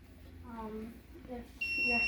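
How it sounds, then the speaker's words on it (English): A Raspberry Pi house alarm buzzer cuts in abruptly near the end with a loud, piercing, continuous electronic tone, just after someone briefly speaks. "it'll blare an alarm"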